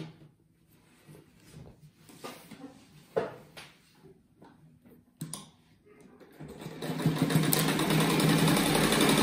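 A sewing machine stitches fabric for a cloth rug, beginning after a few scattered handling knocks and clicks, then settling into a loud, steady motorized hum with a rapid needle rattle for the last few seconds.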